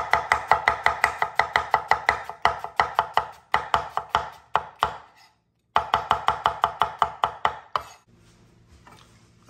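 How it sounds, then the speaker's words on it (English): A knife slices an onion thinly on a cutting board, a rapid steady run of crisp close chops, a brief pause, then another quick burst before stopping. "you want a nice thin slice to your onion"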